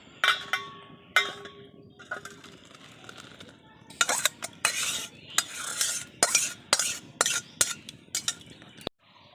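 A metal pan of cooking is lifted off a stove, with a run of sharp clanks, scrapes and clinks of cookware and utensils, sparse at first and then quick and loud toward the end.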